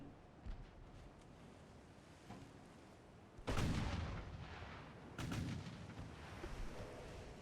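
Naval guns fire in Ultimate Admiral: Dreadnoughts, with two loud, booming blasts a few seconds apart rising over a faint background of wind and sea rumble.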